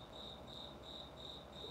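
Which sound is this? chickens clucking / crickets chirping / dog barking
crickets chirping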